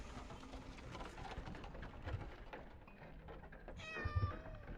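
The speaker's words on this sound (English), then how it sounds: "there's a whole family of kitties" Several cats meow in the horror video game Layers of Fear, a few short cries over a steady low background, with a brighter cluster of meows near the end.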